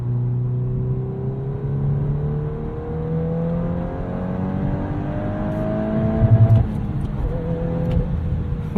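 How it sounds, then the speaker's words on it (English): A 2022 Volkswagen Golf R with a 6-speed manual gearbox revs up steadily and loud from inside the car, the engine note climbing for several seconds until it hits the rev limiter with a stuttering bounce, then drops and settles back. "Always got to test out the rev limiter."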